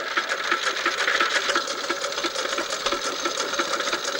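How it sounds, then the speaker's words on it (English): Vintage petrol-paraffin stationary engine, started on petrol and switched to paraffin, running steadily at a vintage rally, a fast even mechanical chatter and ticking that holds constant throughout. "It is a petrol paraffin engine, started up on petrol and switched over to paraffin oil"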